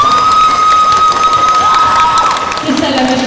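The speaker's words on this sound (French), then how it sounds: "on l'applaudit" An audience applauds and cheers for a performer at a FESTIMANGA cosplay contest, a dense, steady wash of crowd noise with a voice carrying over it throughout.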